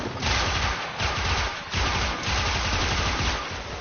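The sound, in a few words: AK Stiletto gunfire, from video game Warframe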